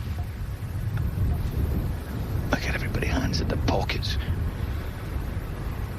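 Wind gusts across an open golf course on a cold day, a steady low roar and buffeting on the microphone, with people whispering and talking quietly underneath.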